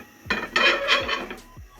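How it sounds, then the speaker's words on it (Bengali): Pots and dishes are scrubbed with a steel scrubber, making a few close, rough scraping strokes with light metallic knocks between them, with no talking. "স্টিলের জালি দিয়ে ঘষে ধুয়ে ফেলবো।"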